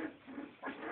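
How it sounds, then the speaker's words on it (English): Three-week-old puppies growl and whimper in short, close bursts while playing together, a brief rough vocal sound with no talk. "Oh, growling as well, look."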